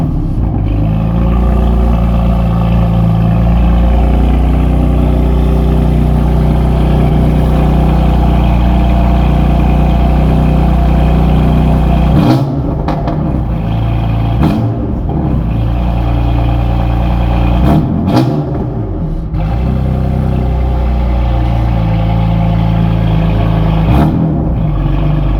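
A 2015 BMW F80 M3 straight-six idles loudly and steadily up close, then gets revved in several sharp blips near the end, each briefly swelling and dropping back to a rumbling idle.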